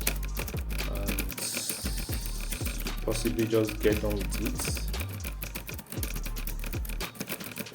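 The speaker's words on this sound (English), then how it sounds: "So we're just going to briefly type in all the gibberish we can afford to type in here" A computer keyboard clatters in quick, uneven bursts of keystrokes during a design tutorial, close and moderately loud, with a person talking over the typing.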